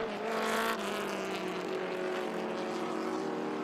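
Vintage race cars, including a Lotus 23, roar past on the main straight at Mid-Ohio, a loud sustained engine drone with a rising pitch that swells near the start and holds steady as they go by.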